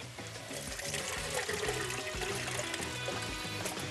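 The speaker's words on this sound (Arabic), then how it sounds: "ثواني كده انزل شويه الميه دي." Boiling water is poured into a pot of soaked rice in a kitchen, a steady gurgling, splashing stream that runs unbroken for a few seconds at moderate volume.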